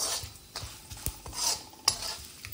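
Raw peanuts roasting in a pan with asafoetida and curry leaves for a millet puffed-rice chivda, quiet dry scraping and stirring with scattered clicks and light taps of a utensil against the pan, close and faint.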